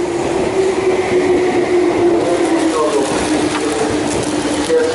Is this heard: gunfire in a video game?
no